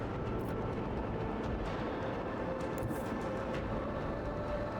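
A torpedo strikes a ship in the space combat of the Rogue Trader video game, heard as a dense, sustained low rumbling blast that stays loud and steady throughout with no voices.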